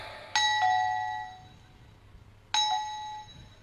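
A doorbell rings twice, each a bright electronic two-tone chime that starts crisp and decays slowly, separated by about two seconds of quiet room hum.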